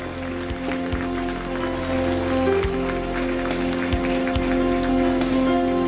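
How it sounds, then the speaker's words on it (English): Audience clapping at a college inauguration event for first-year students, steady and dense applause from a crowd over a continuous hum, with a few louder thumps scattered through. "So give them a big applause."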